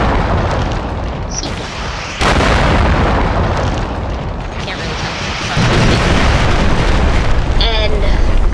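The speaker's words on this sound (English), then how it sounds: "The rocket is bigger. More accurately, the explosion." M202RR rocket explosions from the Rival Rebels mod set off dense, continuous booming blasts, a sharp burst near the start and a louder rumbling stretch later, with a voice speaking over the din.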